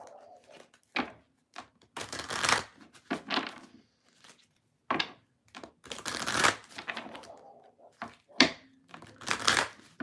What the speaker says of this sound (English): It's a long shuffle before we get to the air signs.